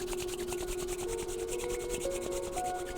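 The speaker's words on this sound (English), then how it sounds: "Now begin to rub the palms of your hands together vigorously." Palms of the hands rubbed together vigorously during a heart chakra yoga practice, a steady, continuous close-up friction hiss lasting throughout with no pauses, alone without talk.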